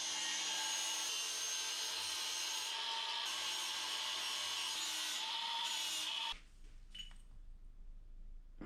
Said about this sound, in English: I'll mark it, then cut it,